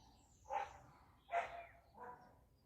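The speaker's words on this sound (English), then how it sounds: "If the dog would stop barking, I'd hear even more." Three faint dog barks at a distance, spaced roughly evenly apart over a quiet outdoor background.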